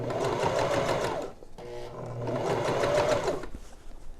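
A sewing machine stitches a face mask seam in two fast, rattling runs separated by a brief pause, loud and close with no talking.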